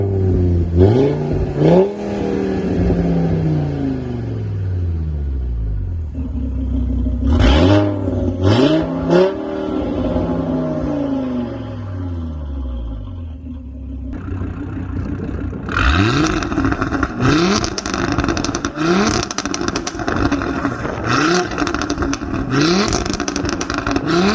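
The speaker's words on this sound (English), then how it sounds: "I actually forgot how loud my car was straight piped." Audi RS3 8P with a straight-piped exhaust, close and very loud, revving hard in repeated bursts that rise and fall, then crackling pops and bangs rattle out rapidly on the overrun.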